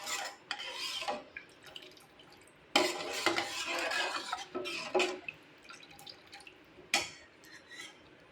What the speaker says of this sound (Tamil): நல்லா கலந்து விட்டுருங்க.